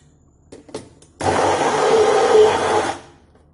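Kitchen mixer grinder pulverising idli pieces into crumbs, a loud whirring burst of about two seconds after a few light clicks, then stopping abruptly.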